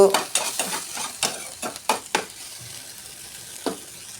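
Potatoes and tomatoes stirred in a sizzling pan, a spoon scraping in a quick run of distinct strokes over a steady frying hiss, close and fairly loud, then fading to a single last scrape.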